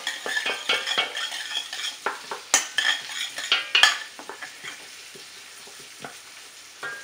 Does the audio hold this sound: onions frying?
yes